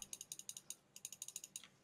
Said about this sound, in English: you can hear the hard drive sounds in the background of my computer recording this